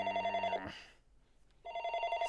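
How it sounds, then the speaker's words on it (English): Telephone ringing in the video game Aoi Tori, a steady electronic ring that plays, breaks off into near silence for about a second, then resumes loud and alone. "The phone is still ringing."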